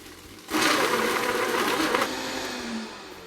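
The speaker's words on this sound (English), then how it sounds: "we're going to put the lid back on this blender, and we're going to pulse it on till we make everything equally mixed" A blender with its lid on pulses a banana smoothie mix in a cooking-show kitchen: a loud, close whirring burst of about a second and a half, then a fading motor hum.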